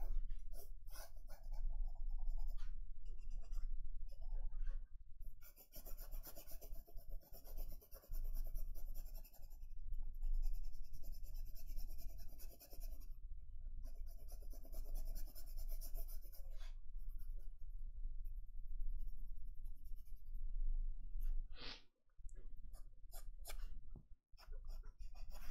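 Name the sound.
pencil redrawing on paper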